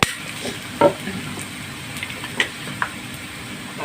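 Water mimosa stir-fried with fresh shrimp and noodles in a pan, a close crackling sizzle with a few sharp spatula knocks and scrapes, no voices.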